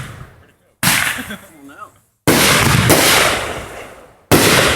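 July 4th fireworks bursting loudly outdoors, several sharp booms in a row with crackling tails, separated by brief gaps; people talk faintly between the blasts.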